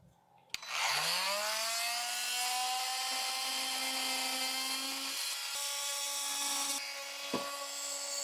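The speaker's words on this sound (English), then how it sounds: "let's get this thing out of the clamps and get those tabs cut." A rotary power tool spins up to a high steady whine as it cuts the holding tabs off a CNC-cut wooden address sign. The whine shifts in pitch under load, close and loud, with no talking.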